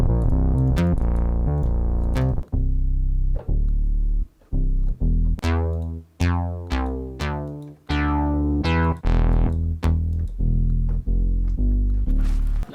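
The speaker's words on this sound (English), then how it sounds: "this plugin is the only plugin that can recreate this punch, the frequencies and the fullness of real synth bass sounds." Punchy synth bass from a VST instrument plugin plays a series of sustained and decaying notes with heavy low end and bright attacks, loud and continuous with brief gaps, no talking.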